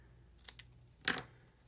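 Scissors cutting designer paper for a handmade card, a couple of short, soft snips followed by a slightly louder crisp cut, close and quiet with no talking.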